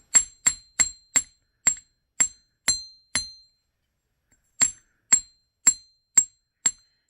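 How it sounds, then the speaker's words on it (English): A chasing hammer strikes metal on a steel block in a steady run of sharp, ringing taps, flattening jewelry pieces, pausing briefly before the blows resume. "we're going to get our chasing hammer out. And we're going to flatten these"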